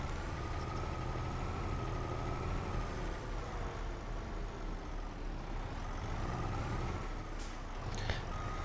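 A truck reversing in Farming Simulator 25 at a tight spot, a steady diesel engine drone with a faint high warning tone, and a brief hiss and clatter near the end, with no talking.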